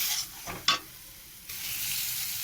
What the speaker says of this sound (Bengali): দিয়ে ভালো করে আমি মশলা আলু ভালো করে কষিয়ে রান্না করবো